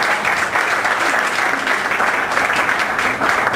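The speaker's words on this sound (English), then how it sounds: "Okay, let's give Meaghan a big round of applause." An audience gives a speaker a big round of applause, a steady, dense wash of clapping from a crowd that holds evenly throughout, loud and close, with no voices standing out.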